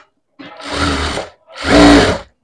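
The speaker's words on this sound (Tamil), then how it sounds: "நம்ம லைனிங் துணி மேலே மட்டும்தான் தையல் போட போகிறோம்" A sewing machine runs two loud, close bursts of stitching through blouse lining fabric, each about a second long, separated by a brief pause, with a motor hum and rapid needle clatter and no talking.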